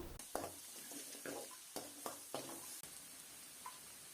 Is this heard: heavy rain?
no